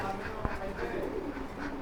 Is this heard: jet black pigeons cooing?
yes